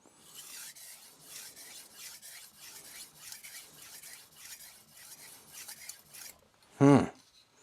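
Repeated raspy strokes of a knife blade across an HK Knife Works 3000 grit vitrified diamond sharpening stone, a steady rhythm of roughly a dozen short scrapes, close and moderately loud, followed by one brief louder knock near the end.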